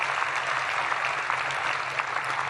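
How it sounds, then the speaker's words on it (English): Workers at NASA's Marshall rocket center applaud during a public address, giving sustained, even clapping from a large crowd at moderate distance with no voices on top. "Give yourselves a round of applause for persevering here at Marshall and developing the rockets of the future."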